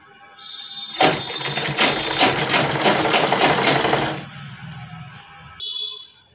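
Sewing machine stitching a sleeve: a loud, close, continuous mechanical whir for about three seconds that tapers off, with lighter clicks before and after.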